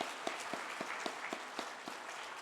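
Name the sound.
congregation applause in church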